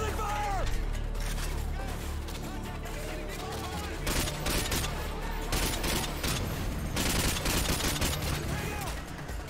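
Gunfire and weapon handling from Call of Duty MW2 on Hardened campaign difficulty, with dense, loud shots and mechanical clatter running throughout over a busy game soundscape.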